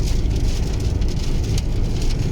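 Steady, loud rain drumming on a car while driving on Michelin CrossClimate 2 tyres, a dense continuous wash with low road rumble underneath and no voices.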